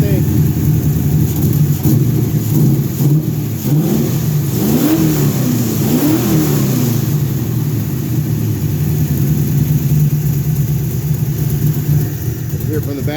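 A nearby custom-built car engine runs loud and rough, revving up and down a few times before settling into a steady idle.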